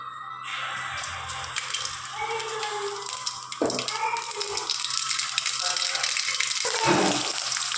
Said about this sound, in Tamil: எண்ணெய் ஊற்றிட்டேன் கடுகு போட்டுக்கலாம்